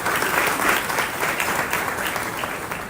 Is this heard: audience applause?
yes